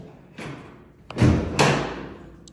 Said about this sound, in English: Let me get this door open.